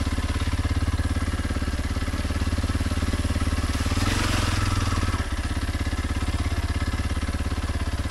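A Kawasaki KLX 230 lugs in second gear on a trail, its single-cylinder engine thumping in a fast, steady low pulse, close and continuous, with a brief surge of rushing noise midway.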